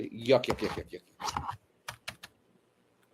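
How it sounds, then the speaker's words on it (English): Typing on a computer keyboard: a handful of sharp, separate key clicks come just after a stretch of talking, then the room goes quiet. "I'm typing on the wrong keyboard."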